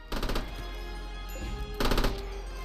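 Gunfire in RimWorld: two short bursts of rapid automatic shots, the first at the start and the second after a pause of about a second, over a quiet background hum.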